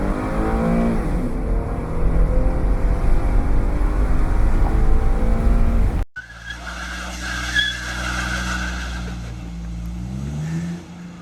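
A rented cargo van revs hard and accelerates at speed, its engine pitch climbing in loud, steady sweeps with a brief tire-like squeal. Road noise shifts partway through, and no one talks.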